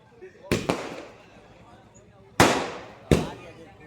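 Firecrackers set off at a wedding celebration go off in two pairs of sharp, loud bangs, each followed by a short ringing decay, with faint voices in the background between them.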